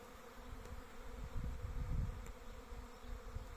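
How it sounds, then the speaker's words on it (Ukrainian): A swarm of honey bees hums steadily around an empty hive fitted with about five frames, giving a low, continuous buzz outdoors that swells slightly in the middle, with no voices. "Стояв порожній вулик, там може 5 рамок. І рій сідає на нього."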